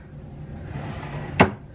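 A hotel nightstand drawer opens or closes with a single sharp wooden knock near the end, close by, after a quiet stretch of low room noise.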